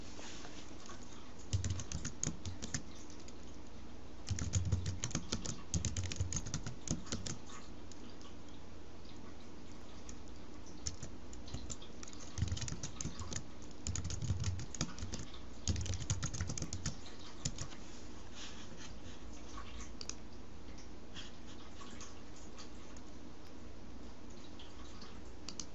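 Someone types a wallet passphrase on a computer keyboard, producing quiet, close clusters of key clicks in irregular bursts with pauses between them.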